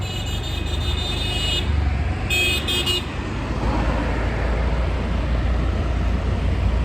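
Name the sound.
highway traffic with cars and horns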